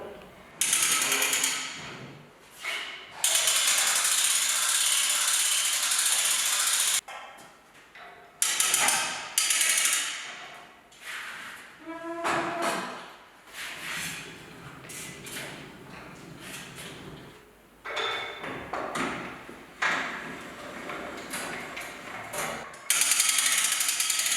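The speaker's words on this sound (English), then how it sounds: "at this point we can lift the hood and give it a tilt" A Lift King heavy-duty lift tilts the hood of a semi truck, giving off a run of ratcheting clicks and mechanical clanks with short pauses between bursts, close and fairly loud.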